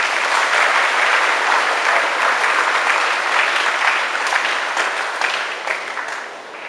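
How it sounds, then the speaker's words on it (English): Sustained applause from a large graduation audience, dense and steady throughout, tapering slightly toward the end. "Give yourselves another round of applause."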